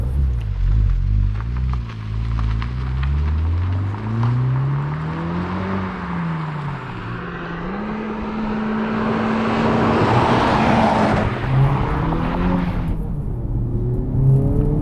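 A 2021 Honda Civic Type R Limited Edition engine accelerates hard through the gears, its note climbing steadily with a brief drop at each shift, loud and close throughout, ending with a sharp cut near the finish.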